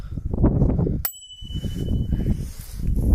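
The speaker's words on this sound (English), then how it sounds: "Bell." A Koga World Traveller touring bike's bicycle bell rings once with a bright, sustained ding, close and clear between stretches of talking.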